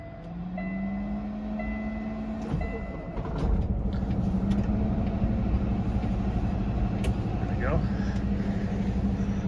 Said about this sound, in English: Turn the truck on in here